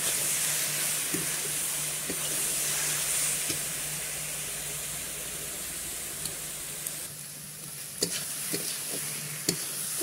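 Grated coconut filling with cardamom seeds dried out in a pan, a steady close sizzle and hiss with occasional clicks of a spoon stirring against the pan.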